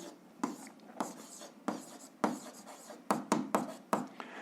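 A pen scratches across paper while a graph is drawn for a seventh-grade algebra exercise, a run of short, close strokes with brief pauses between them, quiet and alone.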